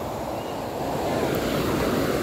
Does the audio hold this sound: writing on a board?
no